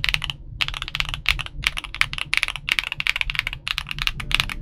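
Rapid typing on a Monsgeek M1V3 75% keyboard fitted with double-shot cherry-profile PBT keycaps, a dense run of close, crisp clacky keystrokes in quick bursts with brief pauses.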